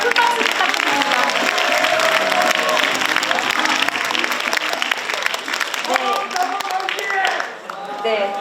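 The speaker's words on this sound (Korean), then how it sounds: "여러분 이동규 장관님께 다시 한번 큰 박수 부탁드립니다." Enthusiastic crowd applause at a Korean political rally in Jeonbuk, loud dense clapping with cheers sustained throughout, with a few voices rising above it toward the end.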